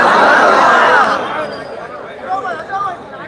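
A large crowd gathered in an open ground on Shab-e-Barat night for a religious conference murmurs and chatters, a dense loud babble that thins to a softer, scattered hum after the first second.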